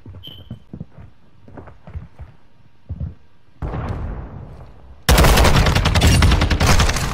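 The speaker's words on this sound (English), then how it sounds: "All I can hear is like bullets." Gunfire in the shooter game Call of Duty: Modern Warfare 2: scattered single shots at first, then a sudden, loud, dense burst of rapid automatic fire.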